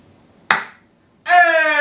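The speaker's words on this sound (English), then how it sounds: "We got some claps." A single sharp hand clap, recorded in an apartment as material for an MPC beat, rings out once and is followed moments later by a loud, sustained shouted voice.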